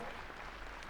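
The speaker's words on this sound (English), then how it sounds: "Round of applause." Brief recorded applause from a livestream subscription alert, a faint wash of clapping lasting under a second.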